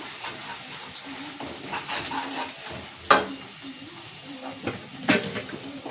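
Chili powder frying in a little oil for a paneer curry, a steady soft sizzle with a few louder scrapes of stirring up close.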